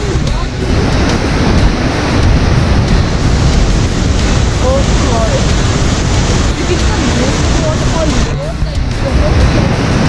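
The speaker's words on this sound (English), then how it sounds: "you can see the waterfall too" Steady, loud rushing water of Bridalveil Fall in Yosemite National Park roars continuously throughout, with a brief exclamation from a voice partway through.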